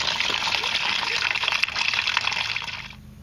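Coolant gushes steadily from a loosened heater hose fitting on a 1999 Ford Crown Victoria P71, a continuous close, loud watery rush that tapers off near the end.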